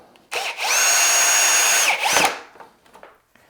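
Power drill driving screws into a wash station during assembly, a loud close whine held for about a second and a half, then winding down with a few light knocks.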